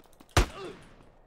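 A single sharp gunshot in a video game, a loud close crack that decays quickly into a short rumbling tail.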